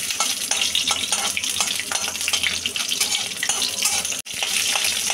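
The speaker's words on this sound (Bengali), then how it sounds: "আমরা প্রথমে রসুনটা ভেজে নিচ্ছি" Garlic frying in mustard oil in a wok, a loud continuous sizzle with crackling bursts and faint stirring scrapes, steady throughout apart from one brief dropout near the end.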